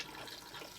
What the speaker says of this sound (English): press the blue button and this is your fresh water flush